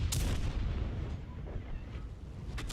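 Tank cannon fire in a World of Tanks Frontlines battle: a dense, rumbling wash of gunfire with sharp, loud bursts near the start and again near the end.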